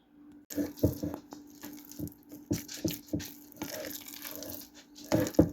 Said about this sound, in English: So I want to add more water to this.